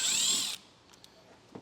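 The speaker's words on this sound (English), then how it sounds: "we're going to take a T15 Torx bit, and we're going to remove the 2 Torx screws on our bumper here" Power driver with a T15 Torx bit backing out a screw from a 2023 GMC Terrain bumper, one short, close whirring burst of about half a second, then quiet with faint clicks.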